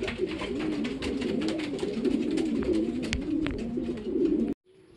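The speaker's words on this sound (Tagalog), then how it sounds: "Ayan, first bird natin, si Ampon." A racing pigeon arriving at the loft on a hot day during a fun race, surrounded by repeated soft cooing from nearby pigeons and a busy, rustling background that stops abruptly near the end.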